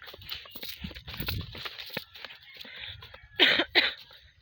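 Two sharp coughs stand out near the end, following a stretch of faint rustling and low background noise.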